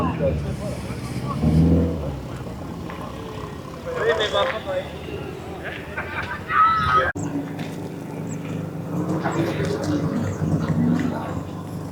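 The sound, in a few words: cars driving around at a car meet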